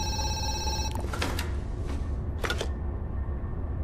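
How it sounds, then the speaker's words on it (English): An old-style telephone bell ringing in the horror zoo game Zoochosis, a sharp bright trill lasting about a second, followed by a few loud clattering knocks and thuds before the sound fades to near quiet. "Another phone call."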